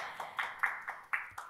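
A few scattered, separate claps follow a speaker at a regulatory sandbox industry forum, about six sharp hand claps spaced unevenly over a second and a half, fairly faint in a quiet room.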